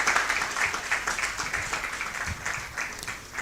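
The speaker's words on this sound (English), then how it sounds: "you should give yourself a round of applause" Winners and guests at a prize-giving event clap in a steady, dense round of applause that holds at an even level throughout.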